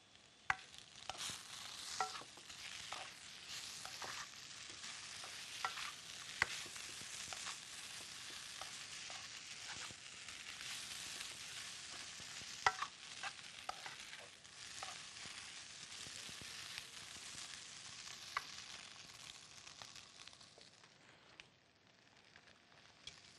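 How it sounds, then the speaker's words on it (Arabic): A vegetable soup in a pot is stirred for over twenty seconds with a soft, continuous scraping and bubbling sizzle, close and fairly quiet, with scattered small clicks. "نقلب الشوربة"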